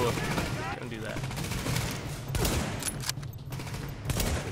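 Rapid bursts of carbine fire from a third-person shooter, The Division, crackle in close, repeated volleys with sharp louder shots near the middle and end, under a busy game soundscape.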